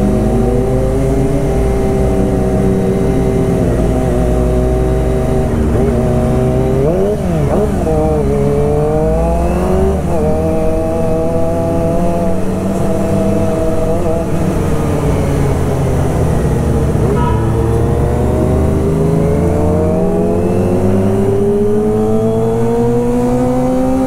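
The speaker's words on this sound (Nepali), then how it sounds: "त्यो दुईटा बाइकको अति मिठो साउन्ड आइरहेको" Two motorcycles riding together along a scenic road in Japan, their engines droning steadily and close with rising and falling revs throughout, no talk.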